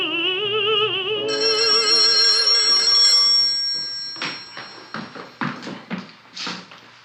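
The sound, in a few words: telephone ringing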